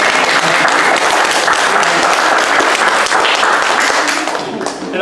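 Wedding guests give a round of applause, a dense and loud burst of many hands clapping that holds steady before tapering off near the end.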